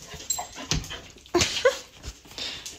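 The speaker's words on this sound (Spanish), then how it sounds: "Estos son mis perros." Two pet dogs at home give soft whimpers and quick panting breaths, close and fairly quiet, in short scattered bursts with no talk.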